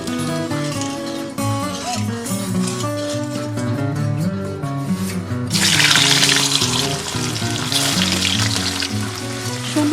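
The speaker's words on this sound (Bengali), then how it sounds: "পনিরগুলো এবার আমি ভেজে নেব।" Paneer frying in white oil with a little salt, the sizzle running under steady background music and swelling into a louder, hissing burst midway that stays to the end.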